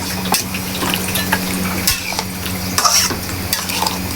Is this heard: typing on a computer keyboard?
no